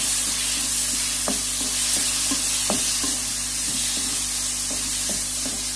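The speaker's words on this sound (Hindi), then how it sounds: "ये हम चिकन डाल रहे हैं।" Chicken pieces fry in two spoons of desi ghee, a dense, close sizzle with intermittent scraping stir strokes and a few sharp clicks of a spoon against the pan.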